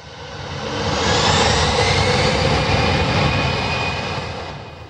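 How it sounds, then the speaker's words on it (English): A loud, close jet engine roars, swelling to a broad thundering peak and then easing slightly, steady with no voices. "the thundering roar of a jet engine at takeoff"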